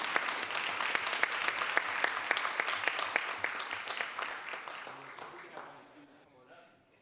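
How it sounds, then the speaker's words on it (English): A crowd at a Hayward city council meeting applauds a Mount Eden High School student in a warm round of clapping that swells and then fades out toward the end. "So let's give him another big round of applause."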